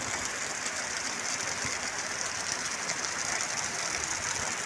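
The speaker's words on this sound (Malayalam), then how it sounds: "ഇത്ര ഹെവിയാണ് മഴ" Heavy rain falls during a downpour with strong wind, heard as a steady, loud hiss that stays even across the whole stretch with no one speaking.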